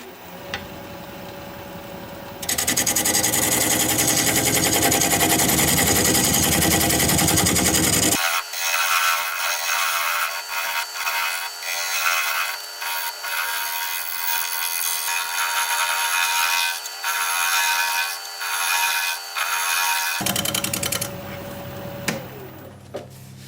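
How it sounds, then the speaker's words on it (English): Olive wood being scraped on a wood lathe, a loud continuous whirring, grinding scrape that changes tone partway through, then fades as the cut ends. "Oh, I'll try scraping it, see how that does."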